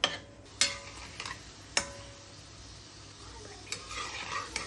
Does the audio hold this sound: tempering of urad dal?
yes